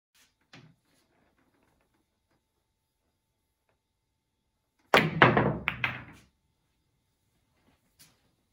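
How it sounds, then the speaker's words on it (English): A pool cue strikes a billiard ball in an elevated trick shot against a ball frozen on the cushion, giving a faint tap followed by a sharp cluster of clacks and thuds, then near silence. "Aim center ball on the 3, elevate the cue, and hit down with a decisive stroke."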